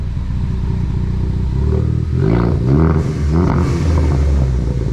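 A Ford Focus ST with full bolt-on modifications revs up from idle, its engine rumble rising into a few loud throaty surges and falling back, close by with no talking.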